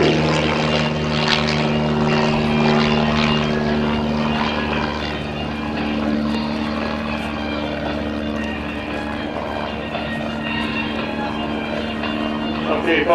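A propeller-driven aerobatic plane's engine drones steadily and loudly through a flat spin and recovery at the 2010 New Garden Airshow, a sustained buzzing roar that fades a little and then swells again, with an announcer talking over it.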